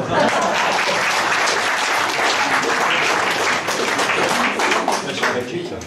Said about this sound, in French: Là aussi, on applaudit à ce moment-là.